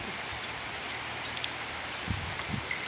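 Rain falling steadily in a continuous close hiss, with scattered soft drops and a few duller taps on a surface.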